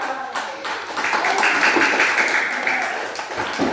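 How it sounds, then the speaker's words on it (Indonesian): A classroom of students claps for classmates after a group presentation, a brief burst of scattered hand claps that swells and then thins out, with some voices audible beneath. "Beri tepuk tangan untuk teman-teman."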